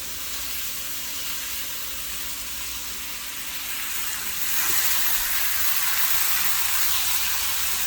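Vegetables stir-frying in a hot pan right after dark soy sauce goes in, giving a steady broadband sizzle that swells louder about halfway through and then holds, with no talk over it.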